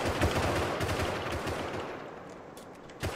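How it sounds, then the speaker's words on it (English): Rapid sustained gunfire from the console survival game Rust, dense automatic bursts blending into a continuous rattle that gradually fades, with a single sharp shot at the very end. "I said to shoot one more clip into it."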